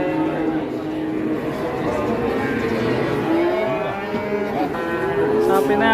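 Large cattle balking at coming down off a truck bellow in several long, rising moos, loud and near, with voices and handlers' chatter mixed in around them.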